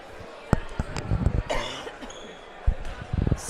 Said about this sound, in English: We just continue to keep coughing here on breaks